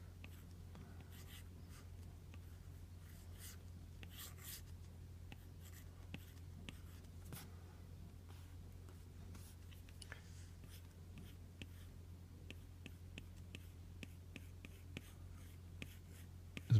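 Pencil scratching on paper while folding origami money, a steady run of faint dry strokes and scrapes over a constant low hum, quiet and close throughout.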